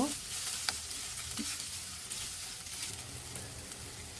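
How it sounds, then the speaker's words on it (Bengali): Boiled noodles and chicken tossed together in a hot pan for homemade chicken noodles, with a steady sizzle and frying hiss, stirring scrapes and a few sharp clinks of the utensil against the pan. "এবার নুডলসের সঙ্গে মাংসগুলো ভালোভাবে মিশিয়ে নিব"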